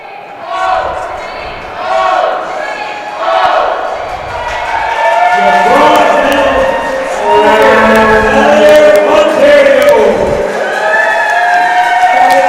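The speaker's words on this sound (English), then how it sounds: "And Ontario cheering on loudly for their archer" Spectators at the 2019 Canada Winter Games archery event cheer loudly for Ontario's archer after a bronze medal finish, a swelling crowd roar with shouts that grows louder and stays under talk.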